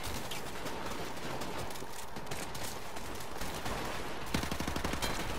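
Rapid, continuous gunfire from Call of Duty Modern Warfare Remastered, loud and dense from start to finish, with a sharper burst of shots near the end.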